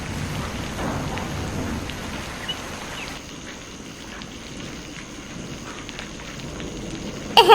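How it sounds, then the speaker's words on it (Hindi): Steady rain falls on a cartoon farm beside a banana grove, a dense, even hiss with soft patter that holds for several seconds, easing slightly midway, before a brief louder clatter at the very end. "मालिक, कितनी बढ़िया बारिश हो रही है"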